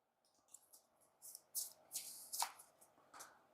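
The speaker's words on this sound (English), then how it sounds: "Next we're going to take the monster cards. We'll shuffle those up." Monster cards from a Horrified Dungeons & Dragons board game being shuffled by hand, a series of soft, close riffling bursts with brief pauses between them.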